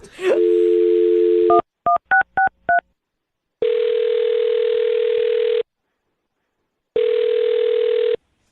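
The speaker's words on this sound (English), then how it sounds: "I'll dial her phone number right now and see if we can get her on the phone" A telephone being dialled: a steady dial tone, then a quick run of short touch-tone beeps, followed by two long ringback tones separated by silence, all loud and clean.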